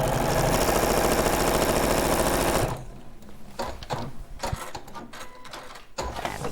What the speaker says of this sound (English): So we're just going to sew that one on.